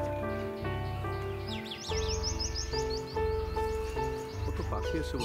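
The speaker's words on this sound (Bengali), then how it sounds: "টিয়া পাখির ডাক শুনতে পাচ্ছি।" Alexandrine parakeets near Kolkata give quick, high chirping calls in short bursts, moderately close, over a steady low droning hum.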